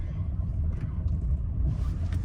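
A car engine rumbles steadily at close range, a low continuous drone with no breaks, heard alone without talk.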